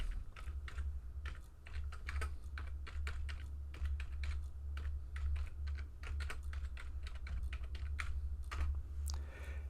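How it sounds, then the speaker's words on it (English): Steady clicking of keys on a computer keyboard while an email address is typed in at a login page, with irregular bursts of keystrokes running throughout over a low background hum. "Let's now type in our email address now."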